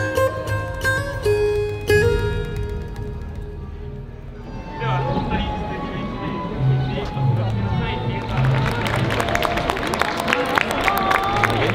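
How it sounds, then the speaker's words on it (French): A crowd claps and cheers for a wedding couple riding a gondola at Tokyo DisneySea, the applause swelling toward the end beneath steady talk and park music. "je vois des gens qui sont en train de tous applaudir et je viens d'apprendre qu'il y a un mariage"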